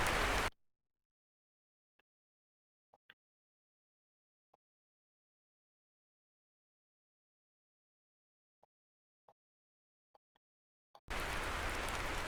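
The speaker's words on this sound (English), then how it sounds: "Oh, and now it's raining." Loud rain from the Heavy Cargo video game hisses in two short bursts, one at the very start and one at the end, with near silence and a few faint clicks between them.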